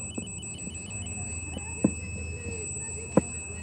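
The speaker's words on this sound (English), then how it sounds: "usually that beeping noise with no light means to follow them" An electronic ghost-hunting device beeps in a steady, quick repeating pattern of faint high tones at night in Bonaventure Cemetery, with soft background noise and a couple of brief thumps.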